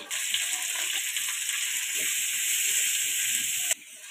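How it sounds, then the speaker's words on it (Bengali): Steady broadband hiss of potatoes frying in hot oil, continuous and close, with a brief drop near the end. "এবার আলুগুলো ভেজে নিচ্ছি"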